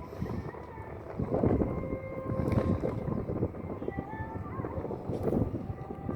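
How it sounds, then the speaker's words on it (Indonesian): Strong coastal wind at a ferry harbour blows in a steady, heavy roar with low rumbling gusts that buffet the microphone throughout. "kalau di pesisir gini anginnya kuat dan ya karena anginnya kuat ya jadi dingin"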